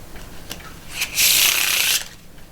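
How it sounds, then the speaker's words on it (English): A deck of playing cards being shuffled during a card trick, a close, loud riffling burst of about a second preceded by a few soft card taps, with no talking. "Let's give these cards a bit of a mix up too."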